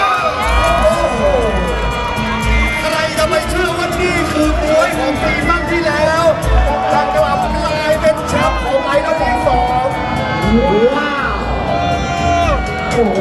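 A crowd in an idol league competition hall cheers and applauds loudly for the season two champions, with shouts, whoops and babble that continue throughout and swell again near the end.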